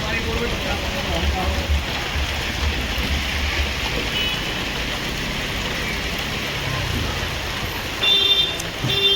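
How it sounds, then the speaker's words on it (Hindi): Steady heavy rain pours down at Dadri Market, Greater Noida, in a dense, continuous hiss, with a brief louder gust of splashing near the end. "देख सकते हैं काफ़ी तेज़ गति से बारिश इस वक्त आ रही है भाई"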